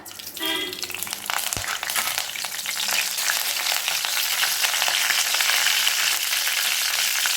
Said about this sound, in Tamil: கருவேப்பிலை பொரிஞ்சதும் வெங்காயம் சேர்த்துக்கலாம்.